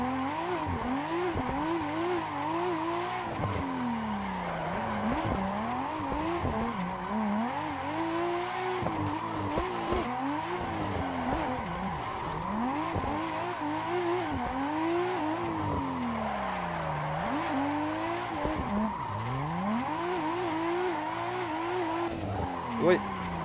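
Drift car tires screeching in long, wavering squeals through corners in the Assetto Corsa drift mod, with a revving engine underneath, continuous and loud, and a voice speaking over it.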